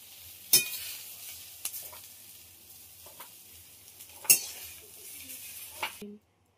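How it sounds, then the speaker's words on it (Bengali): Susni greens with poppy seeds stir-fry in a pan with a soft, steady sizzle. A spatula scrapes and clinks against the pan several times, and the sound stops abruptly at the end. "শাকটা ভাজা হয়ে গেছে, এবার শাকটা নামিয়ে নিচ্ছি।"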